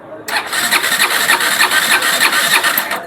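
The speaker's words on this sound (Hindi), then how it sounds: "अब एक्सीलेटर देते हैं, अब सेल्फ मारते हैं।" A KTM Duke 200 engine cranks on its electric self-starter with the throttle held wide open, a fast rhythmic chugging whir lasting about three seconds before stopping, close and loud.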